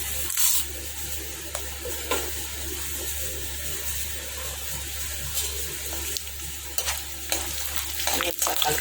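Chana dal, urad dal and mustard seeds fry in hot oil in a pan for an upma tempering, giving a steady close sizzle punctuated by repeated spoon scrapes and clinks as they are stirred. No voices.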